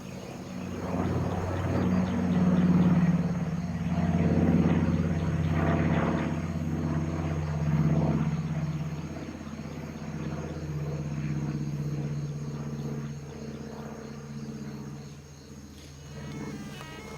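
A Fiat G91 jet aircraft over a wartime setting, a loud engine roar that swells and fades over the whole span with a steady droning tone, with faint voices underneath.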